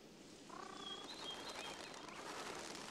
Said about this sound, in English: The bandtail is the largest pigeon in North America